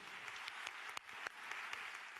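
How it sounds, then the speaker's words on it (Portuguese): Applause from a church congregation, a dense wash of many hands with a few sharper individual claps standing out, fairly faint and distant, steady throughout with no talk. "um aplauso para eles, aleluia"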